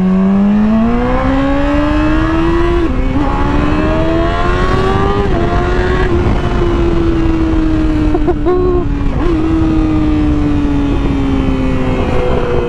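A Yamaha R6 sport motorcycle with a full aftermarket exhaust revs loud and close, its engine note climbing and falling steadily with brief throttle dips, a sustained aggressive roar throughout.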